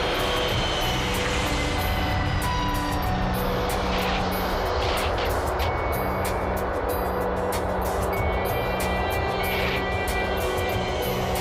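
A KLM passenger jet touching down on a runway, a loud continuous roar of engines and rushing air filling the whole clip with no clear break or separate impact.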